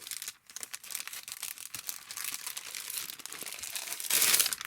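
Patterned paper pad handled at close range, with steady crinkling and rustling of sheets throughout and a louder burst of crumpling near the end.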